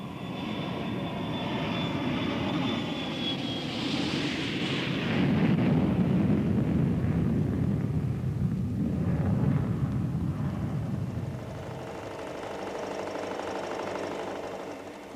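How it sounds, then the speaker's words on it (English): An electronic vibration tester shakes electronic equipment built for aircraft service, producing a loud, continuous roaring drone with a shifting pitch that swells and then eases back. "Mounted on this vibration tester is electronic equipment designed for service on an aircraft."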